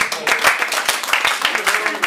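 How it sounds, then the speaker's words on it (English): An audience at a 2009 boxing press conference gives a round of applause, crisp hand claps in a quick irregular rhythm, moderately loud and close, with a voice or two mixed in. "Give him a round of applause."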